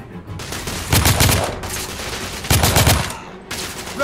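Bursts of automatic gunfire in the video game The Order: 1886, loud and close, coming in three separate volleys with short pauses and a lower rumble between them.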